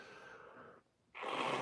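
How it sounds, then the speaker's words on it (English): A person blows their nose close to the microphone in two breathy, rushing blasts split by a brief silence, with no talking. "Hopefully by tomorrow I won't be blowing my nose into the live stream."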